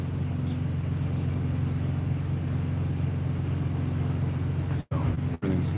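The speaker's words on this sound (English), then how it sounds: "As you can hear my APU in the background, I got my refrigerator going, my cooler going." Truck auxiliary power unit running beside a parked trailer in the rain, powering a refrigerator and cooler: a steady, continuous low mechanical hum and broadband rumble, unbroken apart from two brief dropouts near the end.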